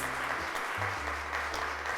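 A studio audience on a children's television show claps briefly, a steady wash of hands under a low sustained musical tone.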